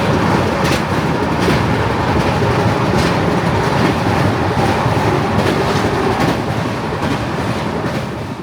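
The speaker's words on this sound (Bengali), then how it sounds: "খড়গপুর থেকে ট্রেন ছেড়ে দিল" The Steel Express moves along the rails past Kharagpur, a loud steady rumble of a passenger train with rhythmic clicks from the wheels at the rail joints, no one speaking.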